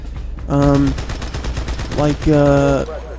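Rapid bursts of gunfire in Halo 2 Anniversary crackle in quick succession, with harsh tonal sound effects layered over the shots, loud and close.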